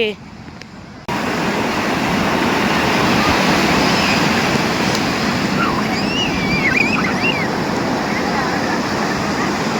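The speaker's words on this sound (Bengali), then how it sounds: "এখন সমুদ্রের গর্জনটা শুধু একটু শোনো" Sea surf roaring along a beach, a loud continuous wash of breaking waves with wind buffeting the microphone after a brief quieter opening.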